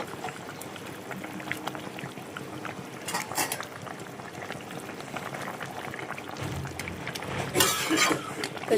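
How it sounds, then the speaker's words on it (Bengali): Fish curry gravy bubbling in a pan as fried fish pieces are dropped in one by one, with a soft continuous simmer and a few sharper splashes and clinks of utensils toward the end. "এখানে ঝোলটা ফুটে গেছে, ভেজে রাখা মাছগুলো এক এক করে দিয়ে দিই।"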